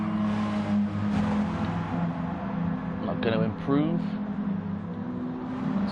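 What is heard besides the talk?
race car engine in Gran Turismo Sport video game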